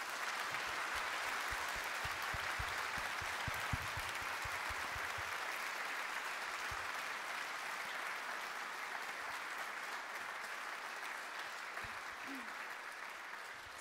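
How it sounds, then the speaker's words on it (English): Lecture audience applauding at the close of a talk, a long even wash of many hands clapping, steady and sustained, with a few louder nearby claps early on and slight tapering toward the end. "A round of applause for Sir Dermot Turing."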